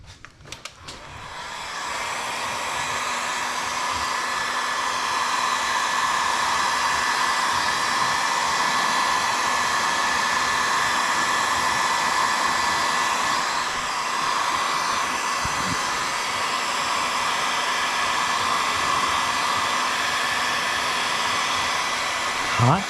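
Heat gun blowing hot air over vinyl graphics during installation, a loud, steady whooshing roar with a faint whine that starts after a moment and runs continuously, close by.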